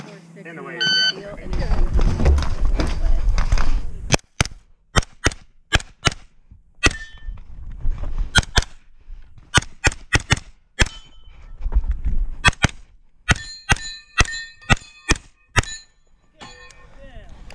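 Pistol gunfire rings out at a shooting match stage with steel targets and a Texas Star, sharp shots coming in quick irregular strings with pauses between, preceded by range commands and a beeping timer.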